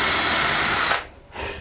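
A power drill bores into a wooden sign board, a loud steady whine that stops abruptly, followed by a brief quieter burst.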